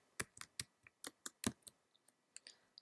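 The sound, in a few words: typing on a computer keyboard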